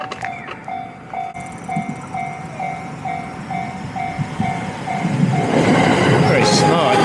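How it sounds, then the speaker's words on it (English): A train passes a Japanese station near the end of the Shimanami Kaido, its rumble building steadily and growing louder and closer, with a repeating warning tone and clickety-clack rolling underneath. "Looks like there's a train coming."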